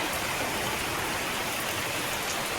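Steady rain patters on a kitchen roof, a dense, even hiss with no voices.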